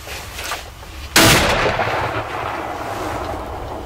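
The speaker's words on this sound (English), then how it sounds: "I just shot one at 30 yards." A single loud rifle shot from a deer hunting rifle, fired outdoors on a Texas ranch, cracks sharply over steady background noise and then rolls away in a long fading echo.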